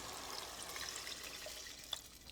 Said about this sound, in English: You're going to add 3 cups of beef broth.